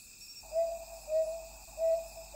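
A brown hawk-owl on Namsan mountain in Gyeongju calls in the night, giving four clear, evenly spaced hoots against a faint steady hum of insects.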